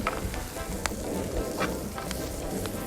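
Chard and beet tops sizzling in a warm oiled pan outdoors, a steady crackling hiss with scattered pops, fairly close and unbroken throughout.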